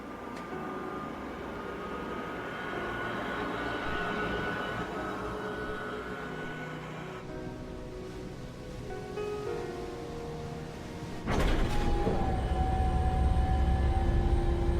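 Jet engine whine and rumble at takeoff in the video game Ace Combat 7, a steady roar that surges louder near the end as a high tone settles in, with no talking.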